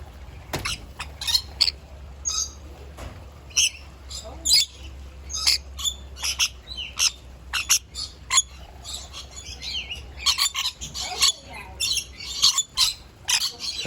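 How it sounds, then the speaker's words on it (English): Birds squawking and chirping in rapid bursts close by while feeding on nectar, sharp overlapping calls coming in clusters over a low background hum. "Attack of the bird."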